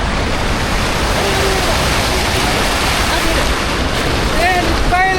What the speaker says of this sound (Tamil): சட் ஹவுஸ்லேருந்து தண்ணி அடிச்சுட்டு வருதுங்க